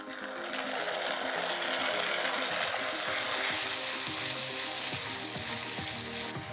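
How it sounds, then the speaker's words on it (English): Tomatoes hit golden frying onions for restaurant-style dal makhani, setting off a loud, dense sizzle that holds steady, with rhythmic stirring scrapes and clicks underneath, close and without talk. "In go the tomatoes."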